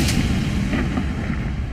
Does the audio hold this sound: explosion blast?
yes